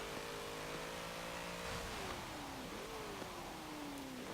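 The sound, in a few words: 1990 Alfa Romeo SZ engine revving in Forza Motorsport video game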